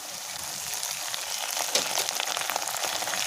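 Ginger paste hits browned onions in a hot pan for loitta shutki bhuna, giving a bright, continuous close sizzle with soft crackling and a few stirring bumps.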